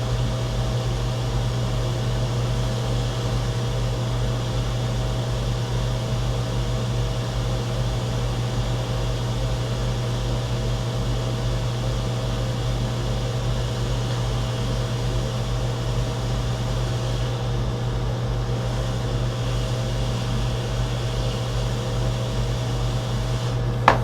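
A hot air rework station blows steadily over flux on a MacBook 820-3787 logic board, producing a constant, even airy hiss and fan drone that holds unchanged throughout with no talking.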